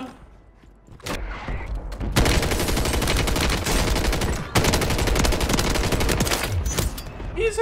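Rapid gunfire from an ISO 9mm submachine gun in Warzone pours out in long, loud, sustained bursts, broken by one brief pause before the firing resumes.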